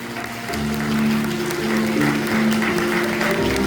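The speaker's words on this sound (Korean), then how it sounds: "큰 박수로 축복해 주시길 부탁드리겠습니다." Wedding guests break into sustained applause after the officiant declares the couple married, a dense, steady clapping that fills the hall and swells slightly, with faint murmuring underneath.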